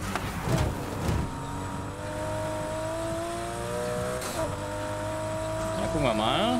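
A boxer-engined Porsche RSR race car in Need for Speed Heat drones at steady high revs through a twisty course, with a sustained engine tone and a brief shift near the end, under a soft game mix.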